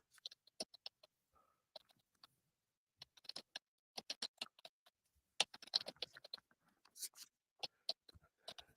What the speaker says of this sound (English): I heard you typing away.